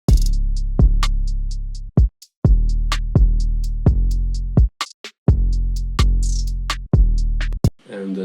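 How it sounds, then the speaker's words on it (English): Beat drums with hi-hat, kick and a sidechained 808 play in a steady pattern: booming low 808 notes that duck and swell under each kick, with crisp ticking hi-hats over the top, loud and close. "so the drums all together, they sound like this."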